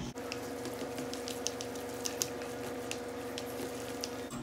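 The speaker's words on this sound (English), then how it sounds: "Now I'm just gonna mix all this up together." Keto breakfast casserole ingredients, seasoned with pepper and parsley, stirred together in a bowl: faint, quiet, continuous ticking and scraping over a low background hum.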